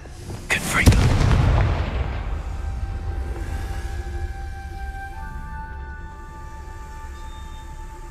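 A fiery Confringo spell blast in the wizarding video game Hogwarts Legacy: a sharp, loud burst that booms, then settles into a sustained rumbling tail with lingering ringing tones.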